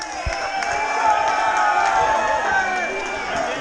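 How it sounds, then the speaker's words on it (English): An indoor audience claps and cheers together for a walker on a Cornish coastline trek, a loud, close burst of applause mixed with whoops and crowd babble. "Everybody give him a round of applause."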